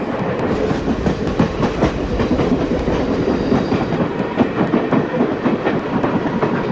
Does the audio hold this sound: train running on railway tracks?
yes